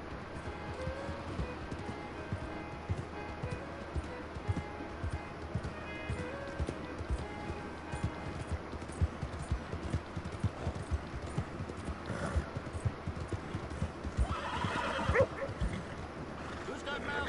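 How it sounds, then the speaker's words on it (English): Horse hooves clip-clop in a steady rhythm while a dog barks and yips now and then, with a voice talking over the scene throughout. "You a good horse."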